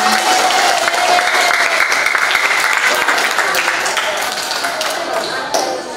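A class of sixth-grade students claps for a classmate after a mindfulness exercise, a loud burst of applause that slowly thins and fades over several seconds.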